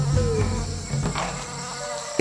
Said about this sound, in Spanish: las abejas.